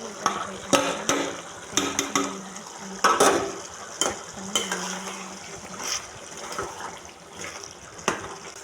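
Bitter gourd tamarind curry bubbling in a pan, with soft irregular pops and a steady simmering hiss at close range, no voices over it.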